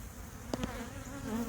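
Honey bees buzz steadily at an open backyard hive, a close, continuous droning hum with a couple of brief sharper bursts as individual bees pass near.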